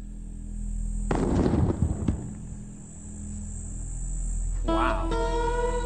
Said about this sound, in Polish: Zobaczmy, jaki będzie wybuch.